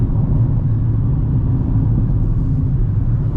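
A 2025 Kia Picanto 1.0 cruising at about 90 km/h on a back road, heard from inside as a steady, dense low engine and road rumble with no breaks.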